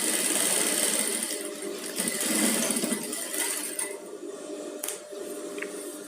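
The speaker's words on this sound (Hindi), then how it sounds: "ये चेन के एकदम यही नज़दीक ही सिलाई स्टिचिंग करनी है" A sewing machine runs in a steady, continuous whir while stitching right beside the zipper of a padded gown, close and fairly loud, with no talking.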